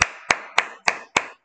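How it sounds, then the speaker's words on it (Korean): Six sharp, evenly spaced claps ring out alone at a quick, regular pace, close and crisp with short decays. "박수 쳐."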